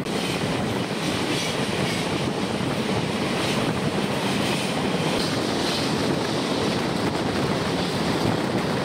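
A train runs steadily through a 686-metre railway tunnel between Belonia and Jolaibari in Tripura, a dense continuous roar of wheels and air with no break and no voices.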